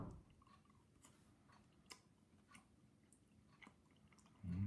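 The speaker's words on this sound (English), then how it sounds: "you just chow down on the whole thing" A big mouthful of Reapersaurus dinosaur-shaped hot pepper candy is chewed close up in soft, irregular squishy crunches, faint and steady, with a louder noise starting at the very end.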